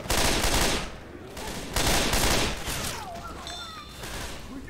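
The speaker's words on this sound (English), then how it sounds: "I don't like the burst fire mode on this" Gun firing in burst fire mode in a video game, loud rapid clusters of shots in short repeated bursts, with other game sounds behind.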